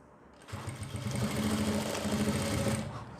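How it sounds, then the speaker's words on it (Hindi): Sewing machine running steadily for a few seconds while stitching a belt salwar, a close, even mechanical whir starting abruptly and holding at constant speed. "अब यहाँ पर भी हम उसी तरीके से सिलाई लगाते हैं, देखिए"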